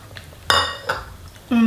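Egg yolks being stirred into room-temperature melted chocolate in a bowl for chocolate mousse, with a few close utensil clinks and scrapes against the bowl, separated by short pauses.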